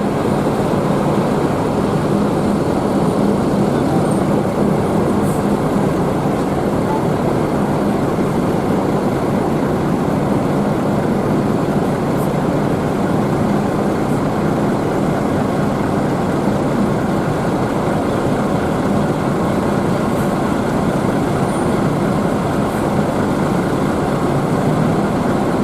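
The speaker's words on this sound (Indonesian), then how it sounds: "Bis-bisnya mulai berdatangan nih teman-teman." Bus engines rumble steadily at a busy Indonesian bus terminal as intercity coaches pull in, a continuous low drone of heavy diesel engines lasting throughout with no talk.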